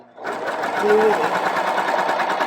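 A sewing machine runs steadily, stitching a seam on a handmade costume with an even, close mechanical whir, while a person talks over it.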